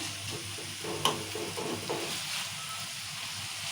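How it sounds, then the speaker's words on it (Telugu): Tomatoes cook in hot oil in a pan with a steady broadband sizzle, a sharp clack near the start and a few soft stirring scrapes, continuous and close with no voices. "ఇప్పుడు టమాటా వేసాం కదా ఒక రెండు నిమిషాలు టమాటాలు కూడా నూనె మగ్గించుకోవాలి"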